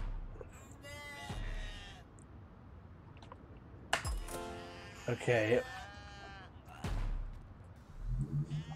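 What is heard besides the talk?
sheep bleating in a video game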